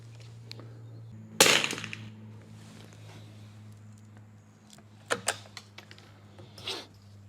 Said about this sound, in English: Let me fire a couple.